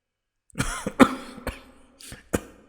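A series of harsh coughs, about five bursts with short gaps between them, close and fairly loud against a quiet background.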